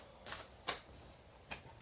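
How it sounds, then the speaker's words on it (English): Tarot cards shuffled by hand in a quiet bedroom, with a few soft, brief riffling bursts separated by pauses. "All right, I'm shuffling them up."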